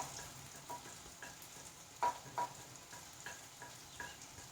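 A quiet, steady sizzle of tomato and onion masala frying for a Kerala-style roasted-coconut prawn curry as turmeric powder goes in, with a few soft stirring knocks and no talking.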